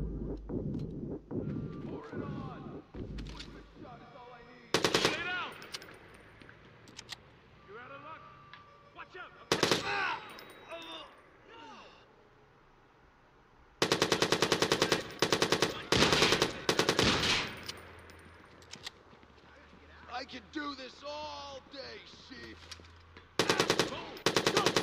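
Automatic gunfire from the video game Watch Dogs on Xbox One comes in loud, sharp bursts, with long sustained volleys near the middle and end. Someone talks between the shots.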